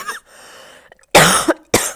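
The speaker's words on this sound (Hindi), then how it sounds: "बहुत खांसी हो रही है" A couple of sharp, loud coughs close by, preceded by a softer breathy throat sound, with short silences between bursts.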